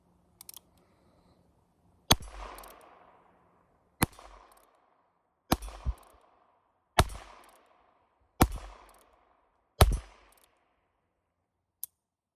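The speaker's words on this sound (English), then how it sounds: "Six shots right on target." Six pistol shots from a .22 at an outdoor range ring out one at a time, each a sharp crack with a short ringing tail, spaced about one and a half seconds apart. A fainter click comes before them and another after.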